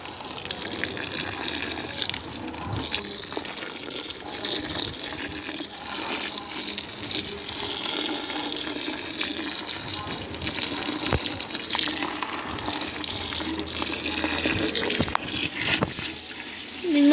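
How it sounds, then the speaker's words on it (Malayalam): Water gushing steadily from a large can onto clay soil, a continuous loud pour that runs throughout with no break. "എന്തായാലും വെള്ളം ഒഴിക്കാം."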